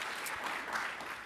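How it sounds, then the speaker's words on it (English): High school student awards crowd giving a round of applause, a steady, fairly soft wash of many hands clapping without pause. "big round of applause for her"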